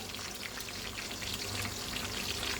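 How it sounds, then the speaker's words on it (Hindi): Eggplant (baingan) slices frying in oil in a pan, a steady close sizzle with dense crackling spatter running evenly throughout and no voices. "ये देखें ये फ्राई हो रहे हैं"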